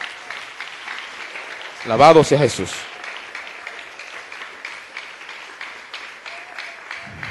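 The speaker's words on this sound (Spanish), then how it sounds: "Él se merece un aplauso en esta mañana." Congregation clapping in church, a light, steady patter running under the scene while a voice briefly rings out over it, then the clapping carries on alone.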